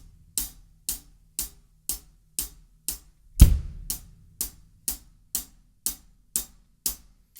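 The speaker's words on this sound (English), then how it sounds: "we're playing eighth notes on the hi-hat" A drum kit keeps steady eighth notes on the hi-hat with a kick drum on beat one, evenly spaced crisp ticks and one louder thump partway through, close and alone with no talking.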